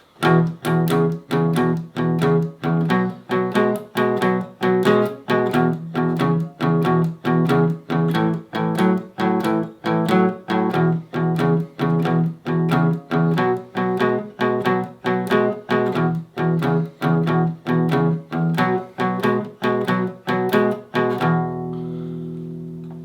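Guitar strumming a steady 8-bar blues chord progression in even, rhythmic strokes, loud and close, ending on a ringing final chord.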